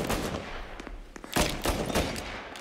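Rapid gunfire crackles in Mafia Definitive Edition, several sharp loud shots and bursts in quick succession over a couple of seconds.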